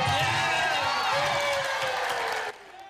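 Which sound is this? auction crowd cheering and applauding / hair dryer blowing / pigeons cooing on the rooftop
auction crowd cheering and applauding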